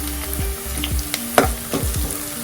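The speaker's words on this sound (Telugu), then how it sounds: "ఇలా ఆనియన్ వేగేటప్పుడు ఒక రెమ్మ కరివేపాకు, ఒక 2 పచ్చిమిరపకాయలని ఇలా సన్నగా చీలికల్లా కట్ చేసుకొని యాడ్ చేసుకోవాలి" Onions frying with curry leaves and slit green chillies give a steady close sizzle, broken by several soft stirring scrapes and clinks from a spoon in the pan; no one speaks.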